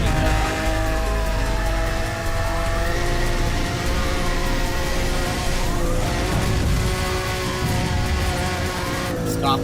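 A Lamborghini Countach in Need for Speed Hot Pursuit grinding along a wall, a continuous engine roar with a rough scraping drone throughout and gear-change whines, loud and close, with a voice talking over it.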